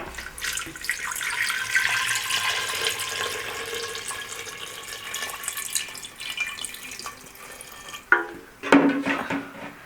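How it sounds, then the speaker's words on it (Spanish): Water runs in a steady stream into a small glass jar holding lemons and chamomile, a continuous close pour that ends with a couple of sharp glassy knocks near the finish, no talk. "lo cubres de agua"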